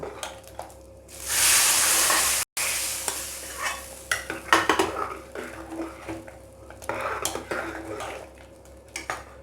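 Hot tempering hits a pot of sambar with a loud burst of sizzling, then a ladle stirs and scrapes the metal pot with steady clanks as the frying hiss fades.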